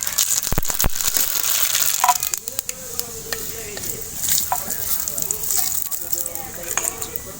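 Mustard seeds dropped into hot mustard oil for a Bengali kochu tok, crackling and sizzling loudly with sharp pops and stirring scrapes while someone talks over the pan.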